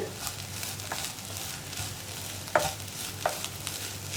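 Cooked bitter gourd thoran is stirred in a pan, with soft repeated spoon scrapes and a few sharper taps over a low, steady sizzle, close by and without speech.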